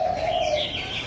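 A free-flying spotted dove cooing close by, a steady, resonant call that continues through the whole moment with faint background noise and no talking.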